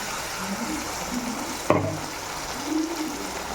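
Tomato paste ground from three large tomatoes hits a hot pan with curry leaves for okra masala, giving a steady close sizzle and frying hiss with a brief sharp clatter partway through.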